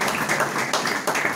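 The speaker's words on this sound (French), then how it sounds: "On applaudit le Seigneur parce qu'il nous a aidés." A church congregation applauds in praise, a dense wash of hand clapping with a loose, pulsing rhythm, steady and fairly close, with no talk over it.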